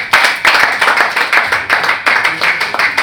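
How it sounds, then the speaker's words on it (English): A roundtable audience of youth and students claps in loud, close bursts of applause that swell and dip in a rough rhythm for about three seconds. "A round of applause for him."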